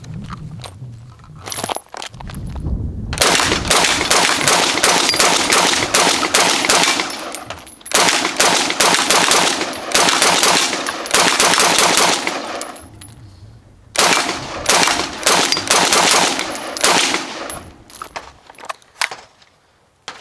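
An unsuppressed Tavor SAR 18-inch rifle fires long rapid strings of loud, closely spaced shots in two main bursts, with short pauses between strings and after.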